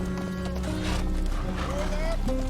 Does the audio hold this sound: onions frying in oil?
no